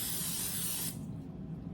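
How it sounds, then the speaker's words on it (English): Cooking spray goes into a 9x13 baking pan in one close, loud hiss lasting just under a second. It then stops, leaving only faint room noise, and no one speaks. "So the next thing that I do is I take my cooking spray"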